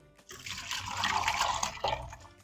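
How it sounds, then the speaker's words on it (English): Zucchini relish mixture poured from close by into a plastic Tupperware strainer, making a steady wet splashing pour that swells and continues for about two seconds. "All right, so we're just gonna pour all of this in here."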